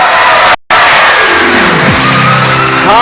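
A studio audience at a televised Ramadan prize show breaks into loud, sustained clapping and cheering after a brief cut, while music swells in underneath.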